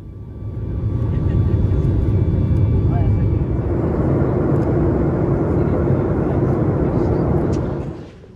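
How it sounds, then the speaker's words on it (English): An airplane taking off: a loud, steady broadband engine roar swells within the first second, holds for several seconds, then drops away at the end. "As our plane takes flight"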